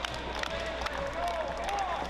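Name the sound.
crowd cheering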